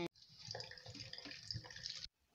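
Running tap water pours steadily over fruit being rinsed by hand, a close, continuous splashing stream lasting about two seconds before cutting off abruptly; no talking.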